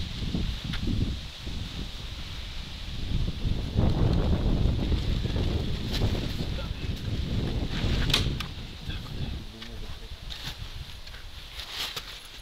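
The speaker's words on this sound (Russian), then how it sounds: "у нас сильный ветер" Strong wind gusts buffet the microphone outdoors while workers stretch a membrane over the walls of a 6 by 7 frame house, with steady roaring broadband noise and brief rustles and knocks throughout.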